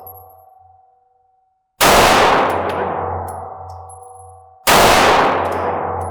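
Two loud handgun shots at a shooting range, a couple of seconds apart, each a sharp close blast with a long ringing decay; faint tones sit in the quiet before the first.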